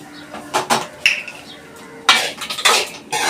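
A spoon clinks and scrapes against a dish while cooked rice is mixed with turmeric, giving several close, irregular bursts of utensil noise with quiet gaps between them.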